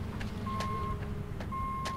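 A vehicle's reversing alarm in the demolition video game Demolition Company beeps twice in steady electronic tones over a low engine rumble, fairly quiet and with no voices.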